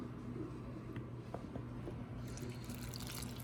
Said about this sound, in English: All right, got 1 cup of water in